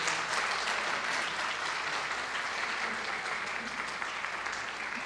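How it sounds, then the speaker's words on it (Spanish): Sustained audience applause for musicians at a live event, a dense even wash of clapping holding steady and fairly close throughout, with no speech over it. "Gracias por ese aplauso para los músicos"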